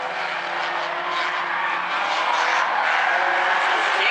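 Stinger 8 race cars roar around the oval at South Sound Speedway, a loud sustained engine drone with shifting pitch as the pack passes, with an announcer faintly speaking over it.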